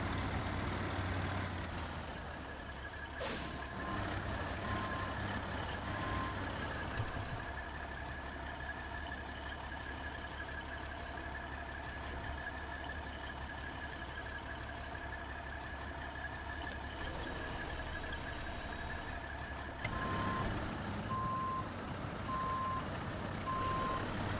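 A truck engine idles and rumbles steadily throughout the off-road driving game Snowrunner, with evenly spaced reversing beeps sounding in two stretches, near and loud, with no talking.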